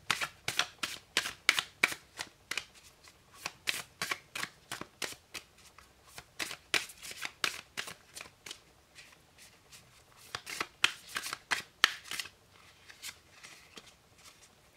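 Oracle cards shuffled by hand up close: a rapid series of crisp, papery riffles and slaps that repeat in short bursts, with a few brief pauses, for about fifteen seconds.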